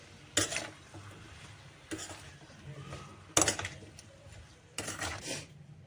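Carrot pickle being tossed with salt and spices in a bowl, the spoon scraping and clinking against the sides in four distinct bursts with quiet pauses between, close and moderately loud, with no voices.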